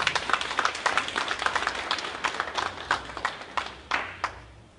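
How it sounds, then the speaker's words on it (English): Applause from a church audience, a quick patter of many hands clapping that stays fairly even at moderate volume for a few seconds before tapering off. "if you can just give her a hand of applause"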